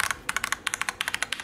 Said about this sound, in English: Listen to this escape,